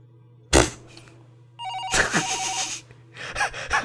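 A wall-mounted telephone rings in the horror video game Paranormal HK, a repeated electronic bell tone over a low hum, mixed with a sudden gasp and loud rustling bursts, with no talk.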